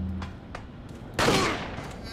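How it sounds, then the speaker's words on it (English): Pistol fire in Resident Evil 4: a few faint pops followed by one loud, close shot with a ringing tail, amid game background noise. "I'm gonna use my pistol, because I miss using my pistol"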